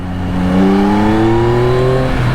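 A car engine rises in pitch as it speeds up and overtakes close by a rider on a 2024 Yamaha XSR900 motorcycle, a loud steady drone sweeping upward over about two seconds.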